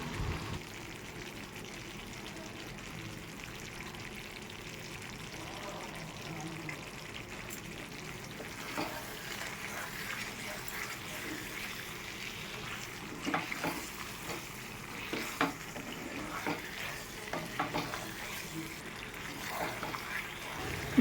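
Chicken maharani curry is stirred in a pan after salt, chilli flakes, kasuri methi and roasted spice mix go in, a steady low sizzle with scattered scraping strokes of the spoon, close and moderately quiet, with no talk.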